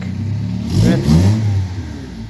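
A 2000 Honda Civic EM1 fitted with a new header revs hard during a test drive, its engine climbing in two loud surges close by, the exhaust note rising and holding alone.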